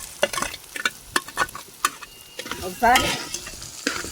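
Potato pieces being stirred into a pan with fried onion, green chili and ginger paste for an aloo curry, giving repeated sharp scraping stir strokes over a soft sizzle, with one brief spoken word.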